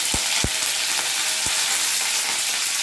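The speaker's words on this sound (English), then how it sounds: "Fry it." Green chilli pieces and curry leaves sizzling steadily in hot oil, a continuous bright hiss with a few sharp pops and stirring knocks near the start, close and fairly loud, without speech.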